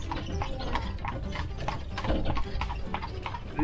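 Horse hooves clip-clop in a steady, brisk rhythm on a hard road as a horse pulls a jaunting car in Killarney, accompanied by a continuous rumbling and rattling background.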